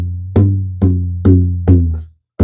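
Drum with a dried-out skin giving a flat, dead tone: five evenly spaced low thumps, each decaying quickly without ringing or bending, played alone and close.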